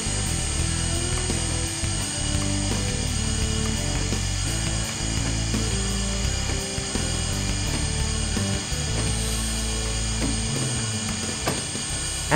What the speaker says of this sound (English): The racking operation may take up to 1 minute to complete.